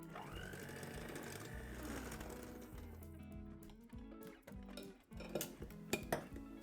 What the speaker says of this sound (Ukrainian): До вершкового сиру додаємо сметану і цукрову пудру перемішуємо.